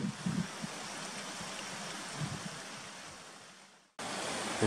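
A stream rushes and burbles steadily at a trail water crossing in Young Gulch, Roosevelt National Forest, a continuous broadband wash, fairly close, with a brief break near the end before the flow resumes.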